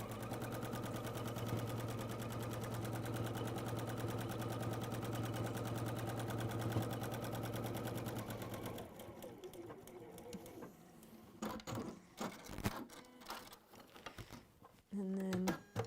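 A sewing machine runs stitching forwards and back on textile work, a loud steady rapid whir for several seconds before stopping, followed by scattered clicks and handling knocks.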